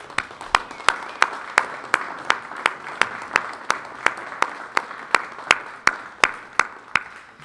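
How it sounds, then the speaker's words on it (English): An audience at the Granada Forum claps for a speaker on terrorism, heard as a steady, evenly spaced series of sharp claps that keeps a regular beat from start to finish. "let's thank Ted Gunderson one more time with a round of applause"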